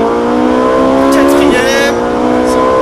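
A Ferrari 458 Italia on a race circuit, its engine revving hard under acceleration from a loud near position, with a brief shift blip midway, while someone talks over it.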